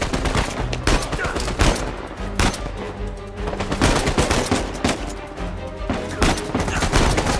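Dense, continuous gunfire from the video game Uncharted 4: A Thief's End, rapid automatic bursts and heavy shots rattling loudly throughout with no pause.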